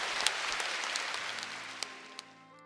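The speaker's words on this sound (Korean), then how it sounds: "이 아름다운 처소를 예배해 주신 예수님께 우리 박수로 한번 감사합니다" A church congregation at Yoido Full Gospel Church claps in thanks during a service, the applause soft and distant, thinning and fading out as a sustained tone lingers at the end.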